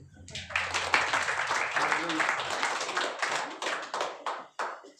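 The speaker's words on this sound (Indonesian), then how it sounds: "ini tepuk tangan dulu sekali lagi" A church congregation at an Easter service claps together, a dense burst of hand claps that runs for several seconds and thins into a few scattered claps at the end.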